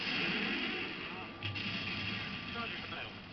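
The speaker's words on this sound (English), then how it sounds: "Stop shooting me!" Gunfire from Left 4 Dead 2 during the Parish campaign, a steady rattle of shots running under a player's voice throughout, with a louder burst partway through.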